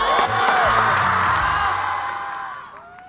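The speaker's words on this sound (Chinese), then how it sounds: "还是把掌声给他们吧" An audience at a street concert roars with cheering, whoops and clapping, a dense crowd sound that swells loudly and then slowly fades.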